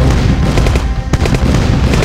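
Explosions of destroyed GDI units in the Command & Conquer game, a dense, loud run of booming, crackling blasts with a sharp burst partway through.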